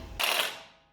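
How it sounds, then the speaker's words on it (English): A ratcheting wrench tightens a bolt on Jeep JK over-the-knuckle steering, one brief close burst of mechanical clicking that quickly tails off into silence. "we're going to tighten up this bolt"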